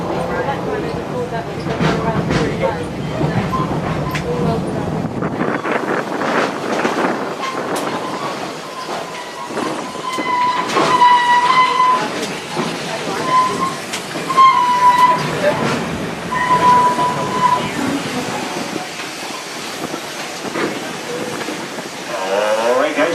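A Busch Gardens park train ride rolls toward its station, a steady rumble of rail cars with clacking wheels and a ringing bell or whistle tone as it slows, while a guide talks over it throughout.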